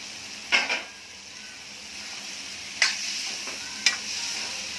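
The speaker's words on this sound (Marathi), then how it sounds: "हे व्यवस्थित परतून घ्यायचं आणि नंतर झाकण लावून ठेवायचं" Potato and ridge gourd pieces are sautéed with tomato in a pan, giving a soft continuous frying sizzle punctuated by three sharp clinks of a spatula scraping and stirring against the metal.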